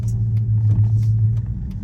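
A Chrysler 300 SRT8 with a naturally aspirated 6.1-litre Hemi V8, heard from inside while driving: a loud, steady, deep engine rumble with a low throbbing hum and no talking.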